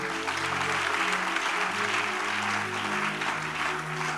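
A church congregation applauds and cheers loudly throughout, a dense continuous clapping roar with voices and a low musical tone underneath.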